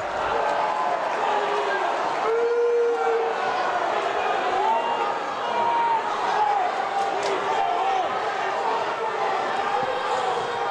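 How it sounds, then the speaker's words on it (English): A packed high school gym crowd at a Fairhaven Blue Devils vs. Norton Lancers boys basketball game roars and cheers in a sustained, loud wash, with whistles and shouts, while a commentator talks over it. "The crowd is going wild."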